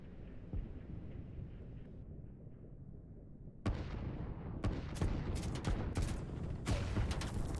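Artillery fire in a strategy video game: a low rumbling barrage, then a run of sharp, loud booms and blasts in quick irregular succession over a steady battle din.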